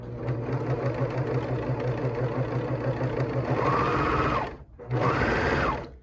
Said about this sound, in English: And I'm just gonna start sewing.